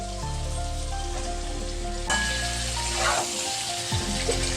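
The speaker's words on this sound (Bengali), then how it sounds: "এই পেঁপে আর আলু একটু ভাজতে হবে, তো আমি একটু ভেজে নিচ্ছি।" Papaya and potato pieces frying in hot oil for a mixed vegetable curry, a steady close sizzle with occasional stirring scrapes and no talk.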